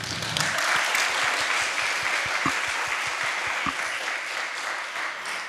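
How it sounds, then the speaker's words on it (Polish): Warm, even audience applause at the Literacki Sopot literary festival welcoming the Canadian ambassador, a steady wash of clapping that holds for several seconds at moderate volume. "Bardzo serdecznie poproszę o brawa i przywitanie pani ambasador"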